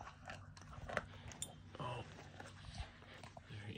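A dog chewing a salmon skin dog treat, close-up wet squishy bites and crunches in an irregular rhythm, with faint sounds like a voice in the background.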